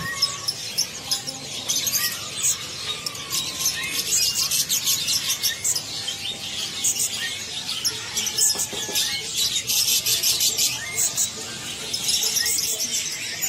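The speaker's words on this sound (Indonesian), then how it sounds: "yang ini cucak ijo gacorannya ya" Green leafbird (cucak ijo) singing at a Paramuka bird market, a dense stream of bright, rapid chirps and trills over busy market noise and other caged birds, steady and moderately loud throughout.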